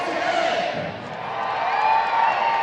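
A baseball stadium crowd at a Savannah Bananas versus Party Animals game roars and cheers for a blindfolded pillow fight, a dense wash of shouting that dips briefly before swelling again.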